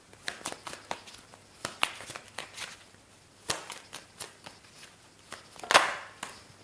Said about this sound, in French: Je vous prends toutes les cartes et je vous dis ce que je vois